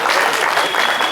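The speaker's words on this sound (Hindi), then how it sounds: "मैं चाहता एक बार जोरदार तालियों से आप इनका आभार व्यक्त करें" Loud, continuous audience applause for poet Mayank Sharma at a Hindi kavi sammelan poetry gathering, a dense wash of many hands clapping at once for the whole moment.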